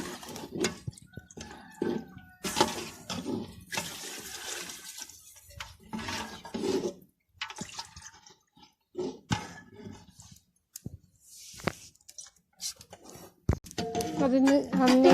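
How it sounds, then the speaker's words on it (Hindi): Water is poured from a vessel into fried meat in a pot while cooking biryani, a splashing and gurgling stream at close range with someone talking over much of it. "अब इसमें हम पानी ऐड करेंगे।"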